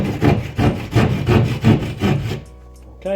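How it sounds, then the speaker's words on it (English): A hand saw cuts through drywall plasterboard for a dry lining box, making about six close, loud rasping strokes in an even rhythm before it stops. "pat the saw into the wall"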